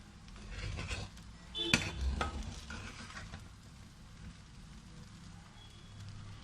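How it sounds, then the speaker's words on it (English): Sabudana khichdi being stirred in a pan with groundnuts and coriander, a soft low scraping and shuffling with faint sizzle, one sharper clink near the middle, steady and close with no talking. "Give it stir after stir."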